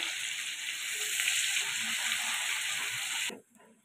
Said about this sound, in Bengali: এবারে একটু এপিট ওপিট করে নেড়ে দেবো আলুগুলো।